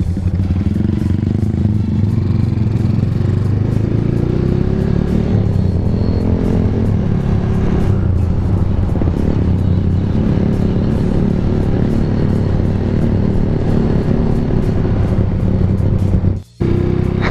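A motorcycle engine rumbles loudly and continuously close by, revving up and down with some clattering, then cuts out abruptly for a moment near the end.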